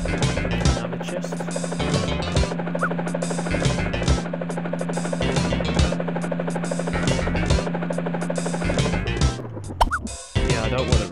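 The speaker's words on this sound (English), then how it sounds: "I don't want to risk blowing up the helicopter." Helicopter in the platform video game Speedy Eggbert, a steady synthetic rotor chop with a droning hum that repeats evenly through most of the clip, then breaks off near the end with a short sweeping effect.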